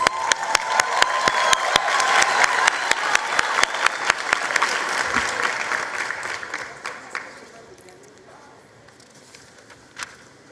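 Audience applause at a matric results announcement in KZN, loud at first with a few sharp distinct claps standing out, then thinning and tapering off into quiet room noise, with one last isolated clap near the end.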